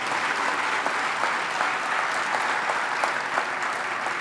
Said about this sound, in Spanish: Fuerte el aplauso para la terna de básquetbol.